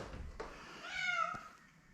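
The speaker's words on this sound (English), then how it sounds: "Cat, be quiet." A cat meows in a cold garage beside an old Arctic Cat Puma snowmobile being worked on, one drawn-out rising and falling meow in the middle with a few faint clicks around it and no talking.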